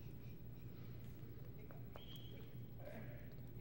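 A cutting horse works cattle at a championship show in Amarillo, Texas, with faint hoof clops and movement over a steady low arena hum. Some distant crowd noise sits far back in the mix.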